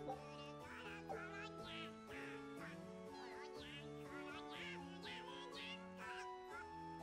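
Repeated nasal, quacking squawks sound out in Tales of Berseria, a rhythmic series of honking calls over a layered musical background, fairly close and continuous throughout.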